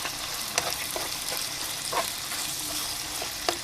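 Bajan bacon cutter fries in a pan with a constant soft sizzle, broken by a few light clicks and pops.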